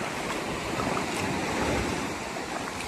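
Sea waves near Puerto Princesa wash in as a continuous, fairly soft roar of surf with steady wind noise across the microphone, and no voices.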